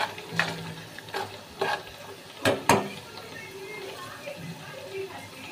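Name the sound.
tadka frying with ground coriander and chili for sarson ka saag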